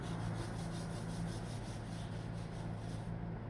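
Steady rubbing as handwriting is wiped off a classroom board, a continuous back-and-forth scrubbing texture with faint rhythmic strokes, quiet and close, lasting the whole span without talking.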